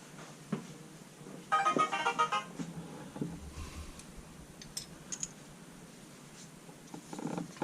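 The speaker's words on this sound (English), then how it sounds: "that's just my text message" A short text message notification tone chirps from a phone in a garage while work goes on removing cylinder head push rods from a 2014 Dodge Charger Pursuit, with light tool clatter before and after.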